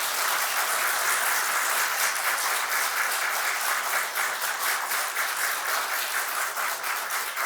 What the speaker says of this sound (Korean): 나중에 드리시고 박수 선물하겠습니다.